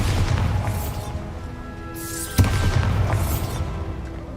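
A Bombarda blast spell in the Hogwarts Legacy video game gives one sharp booming explosion midway, set among rumbling game effects and a shimmering magical swell, with no talking.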